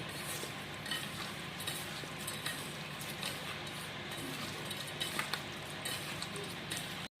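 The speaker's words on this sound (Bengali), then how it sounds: "লবণ দিয়ে এখন এটা ভালো করে একবার মাখিয়ে নেব লবণটা সমস্ত চিংড়ি মাছের সাথে।" Raw prawns being worked by hand with salt in a bowl for a Bengali doi chingri, giving a steady, soft wet squelching and rubbing that carries on throughout, with light clinks.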